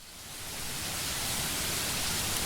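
Rain sound effect: a steady broadband hiss that swells in over the first half second, then holds loud and even, with no voices.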